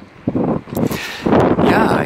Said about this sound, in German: hier in der Spitze beim Leuchtturm ist schon wieder wesentlich windiger